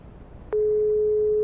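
In the Xbox One game Broken Sword 5: The Serpent's Curse, an unanswered phone line gives off a single steady electronic tone that starts suddenly after a brief quiet moment and holds on, clear and close.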